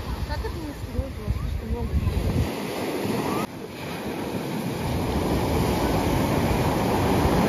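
Sea waves at Glass Bay in Vladivostok: steady surf washing and rushing onto the shore, with gusts of wind buffeting the microphone and people talking on the beach.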